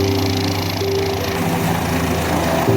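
A helicopter at the Kedarnath helipad in the mountains makes a loud, steady engine and rotor drone, close and continuous with a pulsing throb.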